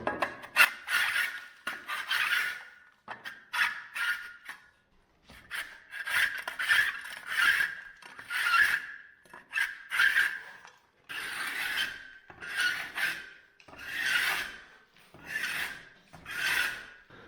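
Repeated rasping scrapes of a plaster corner tool dragged along a plastered wall, steady strokes with brief pauses, close and moderately loud, no talking.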